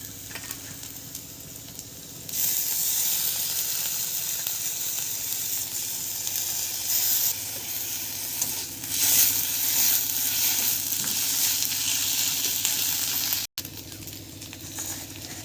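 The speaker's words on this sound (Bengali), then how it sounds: "এবার দিয়ে দেবো রসুন বাটা, এবার দিয়ে দেবো আদা বাটা," Garlic paste and ginger paste fry in a hot pan for a Bengali fish roe and drumstick stem dish, a loud, steady close-up sizzle that swells after a quieter start and runs continuously with a brief cut near the end.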